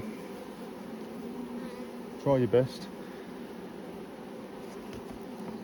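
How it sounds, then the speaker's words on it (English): Honey bees in a queenless hive drone and fan with a continuous, close buzzing hum, briefly interrupted by a short spoken phrase partway through. "if you listen to that, they're droning. They're all fanning."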